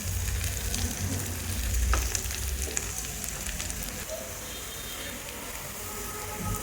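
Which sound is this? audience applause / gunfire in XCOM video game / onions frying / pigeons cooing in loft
onions frying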